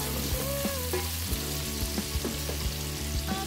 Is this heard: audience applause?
no